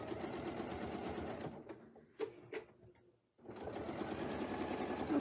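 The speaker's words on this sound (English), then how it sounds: "Now I can sew the next one." A sewing machine stitching circles on a quilt runs in a steady rapid whir, pauses briefly with a few clicks, then resumes stitching at full speed.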